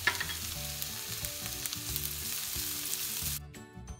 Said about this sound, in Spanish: en otra sartén, ponemos un chorrito de aceite, echamos el ajo picado y el jengibre y lo dejamos que se dore